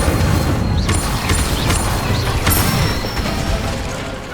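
An Incendio fire spell cast in Hogwarts Legacy bursts out with booming, crackling blasts and mechanical clatter, loud and continuous for several seconds before easing off slightly.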